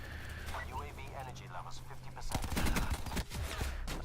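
Gunfire in the video game Black Ops 4 breaks out midway as a dense burst of rapid shots, loud and close, following a stretch of quieter game sounds with voice chatter underneath.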